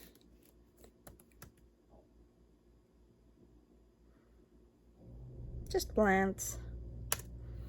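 Soft, sparse key taps on an HP Pavilion x360 convertible touchscreen laptop keyboard, with a few quiet clicks scattered through near silence before a person speaks over the end.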